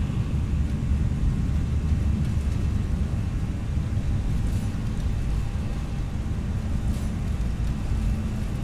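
An airliner's takeoff roll in the flight simulator X-Plane 11, a steady, loud, low engine roar and rumble that holds constant with faint hiss above, no talk.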